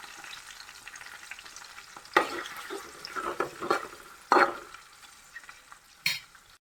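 Garlic and ginger hit hot oil in a pan and are stirred, giving a soft sizzle broken by several sharp scraping bursts and crackles, close and fairly quiet, with no talking.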